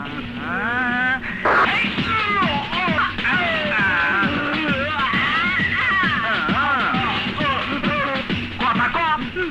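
A cat meows and yowls repeatedly in drawn-out, wavering cries, loud and close, tangled with overlapping shouting voices throughout.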